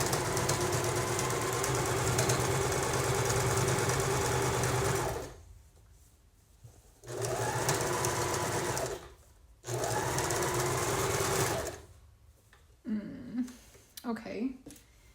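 A sewing machine stitches quilt blocks together in fast, steady whirring bursts, stopping twice for short pauses, followed by faint handling sounds near the end.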